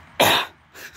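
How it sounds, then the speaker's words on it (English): A woman coughs once in a single loud, close burst, outdoors in the rain, followed by a fainter short cough or throat-clear. "She's got a little bit of cough."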